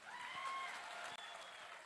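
An audience at a political gathering in Vikarabad claps in a brief, fairly faint burst of steady applause, with a thin ringing tone lingering above it.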